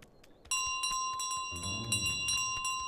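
A bell carried around in Untitled Goose Game rings steadily with bright metallic tones and rapid repeated clanks, close and prominent, over a faint low rumble and with no talk.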